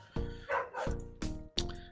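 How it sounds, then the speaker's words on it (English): A neighbor's dog barks outside, four sharp yaps in quick succession within two seconds, fairly clear and close though heard from beyond the room. "yes, that is a dog barking in the background"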